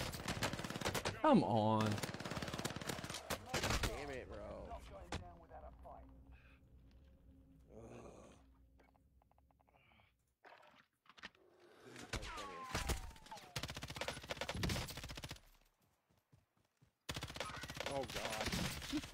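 Video game gunfire comes in bursts of rapid automatic shots, loud and close, with quieter stretches between them and players talking over parts of it.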